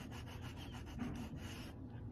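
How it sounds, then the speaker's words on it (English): P120 sandpaper sanding a polymer clay earring held upright, a steady close scratchy rubbing with a faint back-and-forth rhythm, alone with no voices. "and lightly sanding back and forth."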